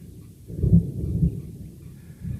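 Thunder from a thunderstorm approaching over Florida's Upper St. Johns River marsh, a low distant rumble that swells and rolls for about a second before fading, with a softer rumble near the end.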